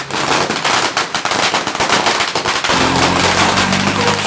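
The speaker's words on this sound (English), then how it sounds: "Another thing you will see during this festival is loads of fireworks." Fireworks and firecrackers burst in rapid, dense crackling at the Phuket Vegetarian Festival in Thailand, a loud continuous barrage that shifts to a steadier roar with a low hum underneath near the end.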